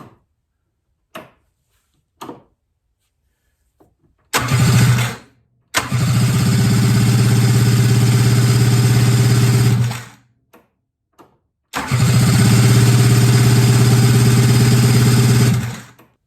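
An Arctic Cat EXT 580 snowmobile engine is cranked, catches and idles with a loud buzzing drone, cuts out, then starts again and runs steadily, with a few faint clicks before.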